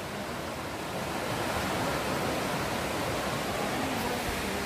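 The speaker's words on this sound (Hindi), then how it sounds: "ये देखिए जो नदी जो बह रही है कितनी खूबसूरत नदी है" A beautiful river flows steadily near a Shiva temple site, giving a continuous, full broadband rush of water that stays loud and even throughout, with no voices over it.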